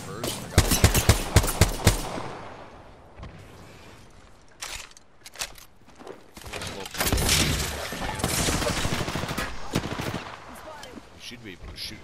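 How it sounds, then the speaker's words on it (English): Bursts of automatic gunfire in the shooter game Apex Legends: rapid sharp volleys early, then scattered shots and longer sustained fire, loud and close, with a voice talking in between. "Should be able to shoot them through the smoke."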